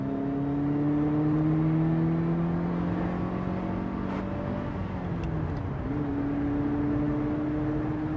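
A Ferrari engine revs and accelerates with rising harmonic tones, dips briefly, then climbs again in a sustained near, steady drone with no speech over it.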